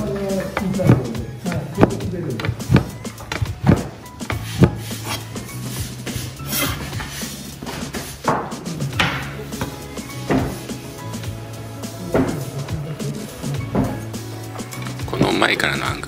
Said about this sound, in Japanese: 倒して引いて切って倒して引いて切って、全て同じ動きで同じスピード同じリズムで動いておりますね。